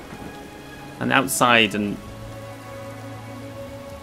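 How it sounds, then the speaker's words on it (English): Steady rain hiss from the video game Morrowind, a soft, even wash of falling rain running throughout, with a person speaking briefly over it near the start. "real rain from the actual Third Era."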